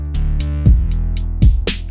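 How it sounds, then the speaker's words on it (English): In a mix of a cover song, a deep bass line pumps and ducks each time the kick drum hits, with punchy, evenly spaced thumps over a sustained low tone. "So I sidechained the kick into the bass,"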